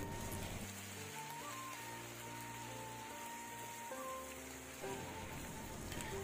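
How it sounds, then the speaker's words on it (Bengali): Chicken frying in hot oil, a dense continuous spatter and crackle like heavy rain, steady and close, with faint low kitchen tones underneath and no speech. "গরম তেলের মধ্যে চিকেনটা যখন আমরা দেব তখন তেল ছিটাবে"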